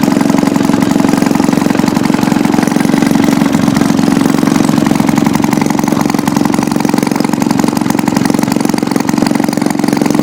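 A Maytag 72 engine runs steadily, a loud, close, even putter with a continuous rhythmic chugging and no talk.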